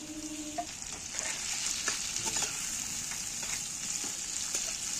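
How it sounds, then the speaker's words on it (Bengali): Spices and tomato fry lightly in a pan for a chicken dish, giving a steady, bright sizzle throughout, with soft scraping clicks of stirring scattered through; no one speaks. "এগুলো আমি একটু ভেজে নিচ্ছি তবে খুব বেশি ভাজবো নি হালকা করে ভাজবো এটা টমেটোটা দিয়ে দিচ্ছি"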